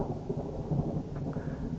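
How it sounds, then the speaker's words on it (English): Low, steady thunder rumbling at a distance on a dark, overcast day near a village church, a continuous soft roll with no distinct crack. "Have you heard that thunder? Seems like it's gonna rain."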